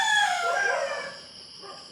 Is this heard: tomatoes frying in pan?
no